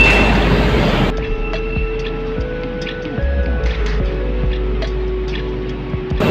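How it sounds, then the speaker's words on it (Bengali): A train runs past near an airport, heard as a steady low rumble with metallic squeals and clanks from the rails, fairly loud and continuous after a brief noisy start. "ওই দেখো ট্রেন যাচ্ছে"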